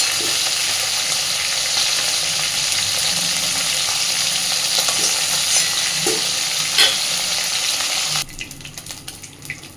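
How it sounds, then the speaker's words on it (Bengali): Boal fish fry in hot oil in a kitchen with a continuous close crackling sizzle, and a few soft clinks ring out before the sizzle cuts off near the end. "মাছগুলো সব সুন্দর করে ভাজা হয়ে গেছে"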